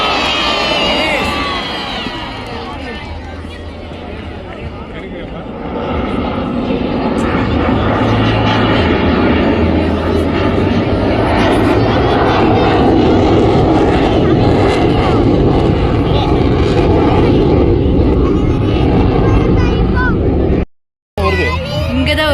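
Aircraft roar over a large crowd at the Marina beach air show 2024, a loud continuous drone with cheering and children shouting mixed in, people talking close by throughout.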